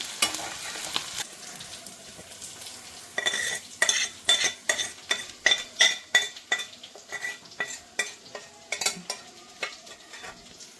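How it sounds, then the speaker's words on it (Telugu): Onion pieces frying in a pan for an eggplant pulusu pachadi, soft sizzle under a rhythmic series of spoon scrapes and stirring clatters against the pan, close and clear, no speech. "చూడండి, ఉల్లిపాయ ముక్కలు వేగిపోయి మరీ వేగక్కర్లేదు, ఈ మాత్రం వేగితే సరిపోతుంది."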